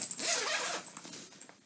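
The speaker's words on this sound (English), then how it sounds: "It does have the zipper pocket here with the key holder, your mesh pockets on each side." A backpack's zipper pocket being opened or closed, one continuous rasping zip pull lasting over a second, close and fairly loud, followed by fainter handling noise, with no talk.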